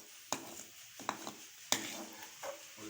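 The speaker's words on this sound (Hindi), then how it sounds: "ये देखिए अब माँ जी इनको अलग बर्तन में निकाल रही हैं।" Fried almonds are moved into a separate pot, with a few sharp metallic scrapes and clanks of a spoon against cookware over a faint background sizzle.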